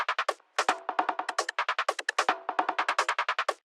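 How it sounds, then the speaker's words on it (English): A trance percussion loop built by rearranging pieces of several loops ticks along in rapid, even bursts of crisp, bright hits with a few brief gaps, close and prominent. "And the perk loop sounds like this."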